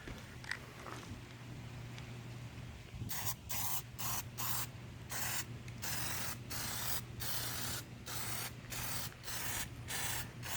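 Spray can laying a thick coat of Plastidip onto a car grille outdoors, a series of sharp hissing bursts in quick rhythmic pulses after a quieter stretch with faint handling noise and a low hum.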